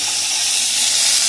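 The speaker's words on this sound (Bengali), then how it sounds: "এই যে মাছটা আমি ভাজছি" Tilapia sizzles loudly in hot oil in a pan, a close, dense, steady hiss that builds slightly over a brief moment.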